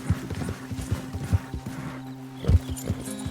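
Horse hooves clip-clop steadily along in Red Dead Redemption 2, a close, uneven trot of soft thuds with a mechanical hum underneath and one heavier stomp near the end.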